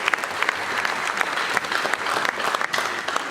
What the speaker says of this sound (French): Les délégations, applaudissons pour les amis qui viennent de toutes les provinces de la République.